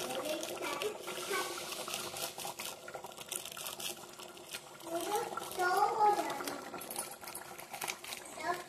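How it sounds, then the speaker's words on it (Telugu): Mutton curry with Everest masala bubbles in a pot, a steady wet simmer heard beneath a voice talking throughout. "చూడండి ఎంత బాగా ఉడుకుతుందో."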